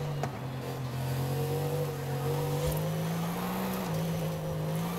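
A Mercedes-AMG engine in Forza Horizon 5 drones steadily during free-roam driving, its pitch rising and falling gently as the car accelerates and eases off, close and continuous with no talking.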